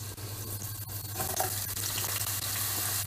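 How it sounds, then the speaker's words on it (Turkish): Diced potato cubes frying in hot oil in a pan, a loud, continuous sizzle with crackling bursts and a low steady hum underneath, with no voices. "Şimdi sırayla şimdi patateslerimi atacağım."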